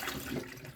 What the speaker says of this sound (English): I'm just washing it extra to remove all the bloody water.